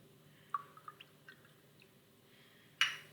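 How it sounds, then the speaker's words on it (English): Lemon juice is poured into a cup of water in a few faint drips and small splashes, ending in one brief louder splash over a quiet hum. "So I'm just going to pour some of this in here"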